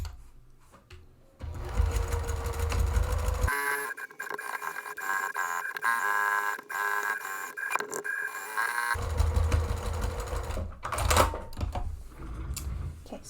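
A sewing machine stitches a seam on a lightly padded zippy pouch, running in close, rapid bursts with a short pause partway through and a faster stretch near the end.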